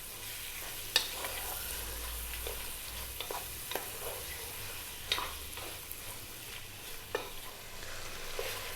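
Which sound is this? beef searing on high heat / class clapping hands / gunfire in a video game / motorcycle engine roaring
beef searing on high heat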